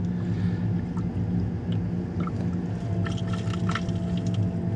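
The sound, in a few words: tap agitating water in hydronic heating system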